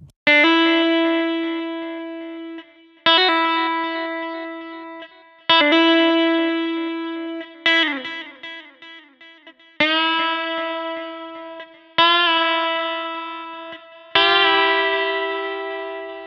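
Seven sustained notes from the Indiginis Renegade virtual electric guitar, each struck and left to ring out, colored by distortion, echo and chorus effects, with no voices.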